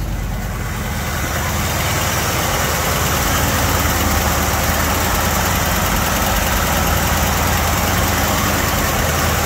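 A 1970 Chevy C10 4x4 pickup's engine idles steadily and loudly up close, a dense rumbling drone with a faint ticking valve tap running throughout.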